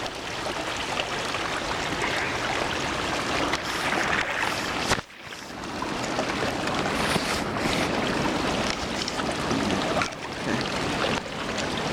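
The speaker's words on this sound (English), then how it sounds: "This would be a waterfall on normal days, but it's just a rapid now." A river swollen by flash flooding rushes as loud, churning rapids over what is normally a waterfall, a dense, steady roar of water close by with one brief dip midway.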